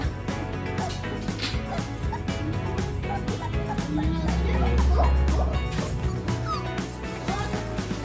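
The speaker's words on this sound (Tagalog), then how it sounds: "Yun naman tong aso na to." A dog barks repeatedly in sharp yips and whines close by, its cries overlapping outdoor background noise and occasional voices.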